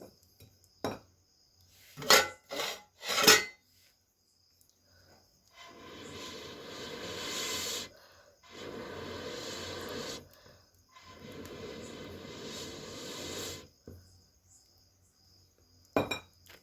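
Metal pots and cutlery clink and clatter in a home kitchen while rice is put on the stove: a few sharp clanks early on, then three long stretches of scraping and rattling, and a last clink at the end, with no talking.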